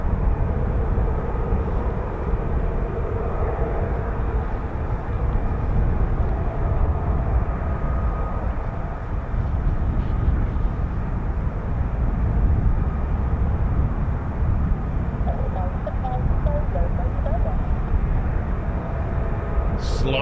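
An F-35B stealth fighter on a low approach gives a steady, loud, broadband jet roar that stays even and sustained throughout, heavy in the low range, with no distinct climax.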